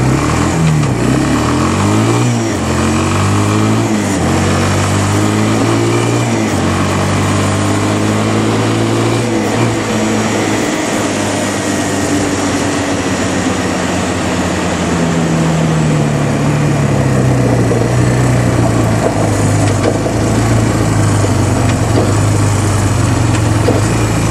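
A Yamaha Bruin 250 ATV engine, just back running after its plugged carburetor jets were cleaned, holds a loud, steady high idle throughout, its pitch sagging and rising slightly as it runs.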